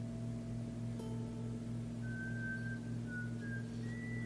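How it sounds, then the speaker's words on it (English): A character in the Broken Sword 5 adventure video game whistles a short tune, a thin, clear melody of a few sustained notes rising faintly over a steady low hum. "Wasn't she whistling something?"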